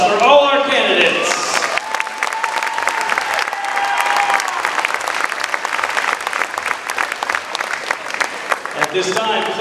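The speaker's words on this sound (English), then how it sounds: "Please join me in one more round of applause for all our candidates" A crowd in a school gym applauds the homecoming candidates at a Louisburg Wildcats versus Ottawa Cyclones basketball game, loud sustained clapping with a few cheers, while an announcer speaks briefly at the start and end.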